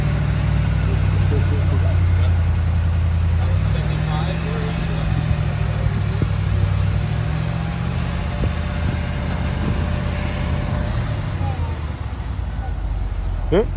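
Engine of an older car with a manual choke, settled into a low idle, a steady close rumble running throughout, with people talking over it.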